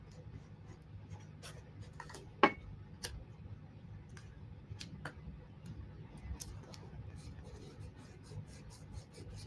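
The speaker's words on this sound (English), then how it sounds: "I'm going to rip this and this." Scrap paper being torn by hand for a craft background, heard as several short, faint rips and crackles spread over a steady low room hum.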